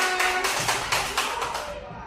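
Clapping in a class or group session as scores are read out, a run of several distinct sharp claps in a loose rhythm, fairly close, fading out toward the end.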